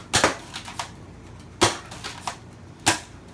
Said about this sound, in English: Fire it, shoot it, reload it.